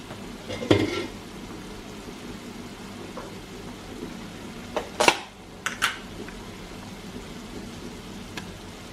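Butter sizzles softly in a hot breakfast pan, a faint steady hiss broken by a few sharp clinks and taps of utensils against the pan.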